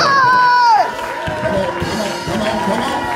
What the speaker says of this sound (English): Come on, clap your hands for Jesus. Give God a shout.